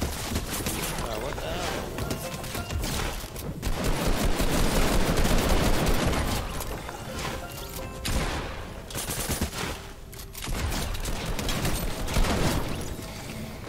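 Rapid, loud gunfire from players shooting in an online video game, dense fusillades and machine-gun bursts crackling almost nonstop with brief lulls between volleys.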